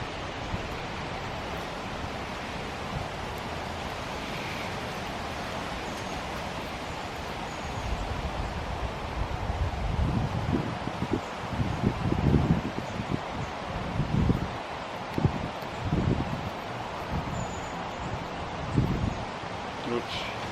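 Wind blows steadily outdoors as a broad, constant rush. Partway through, louder gusty or rustling bursts join it, and a person talks now and then.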